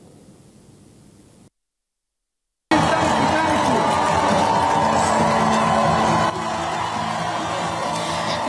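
A large crowd of up to 20,000 people lining the streets of Ballina cheers at a homecoming celebration for a visiting US president, a dense, loud, steady wash of noise that dips slightly near the end, after a brief silence.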